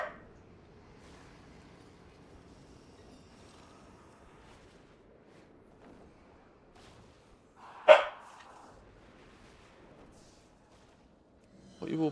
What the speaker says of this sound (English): What are you all barking for, doggos?